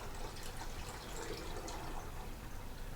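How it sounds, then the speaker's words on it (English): Sanitizing solution poured back into a winemaking container, a steady broadband liquid splash and gurgle running continuously at moderate level with no talk. "I pour it back in, making a tad bit of a mess."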